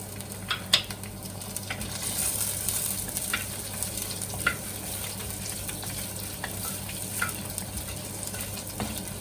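Green chillies sizzle in hot oil in a pan for a prawn curry, a continuous close frying hiss punctuated by occasional sharp spoon clinks against the pan.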